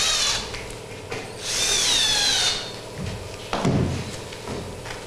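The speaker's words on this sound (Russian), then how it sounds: "закручиваем саморезом" A power drill drives a self-tapping screw into an electrical contact in a workshop, giving bursts of high whirring and grinding with a short rising whine, then a few knocks and clatters.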